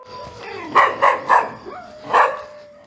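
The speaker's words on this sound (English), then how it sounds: "Listen to the dogs, listen to the dogs." Several dog barks ring out in a short burst of three, then a pause and one more bark, moderately close.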